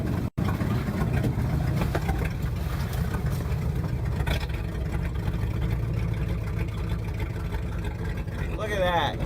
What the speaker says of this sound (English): Now she's gonna idle down.